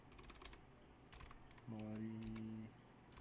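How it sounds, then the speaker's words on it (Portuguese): Keys of a computer keyboard tapped in short quick bursts, faint and close, with a steady tonal hum rising over the latter half. "Eu tô tentando me acostumar com esse teclado"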